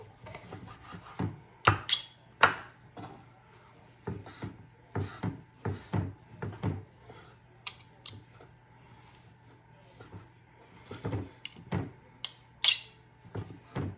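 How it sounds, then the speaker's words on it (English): Cooked beef for beef barley soup is shredded and cut up, giving irregular soft scraping, snipping and tapping strokes at close range, some sharper clicks among them, with quiet gaps between bursts. "So we wanna cut this up, shred it up a lot."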